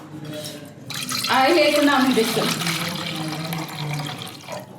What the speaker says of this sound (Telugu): స్టీమ్ కోసం వాటర్ వేస్తున్నాం.